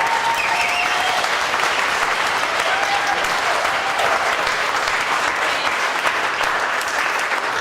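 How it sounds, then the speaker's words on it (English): A large audience at a cannabis industry talk applauds steadily, a dense sustained wash of clapping filling the room for several seconds with a few faint whistles or cheers above it. "can I get another round of applause for her?"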